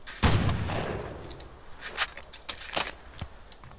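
Precision rifle fire in the Red Faction video game, with a loud sharp shot near the start followed by several fainter cracks and impacts spread through the rest.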